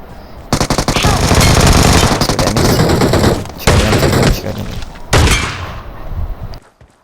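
Rapid automatic gunfire from PUBG Mobile on the Livik map, loud dense bursts separated by short pauses, a final burst trailing off into quiet.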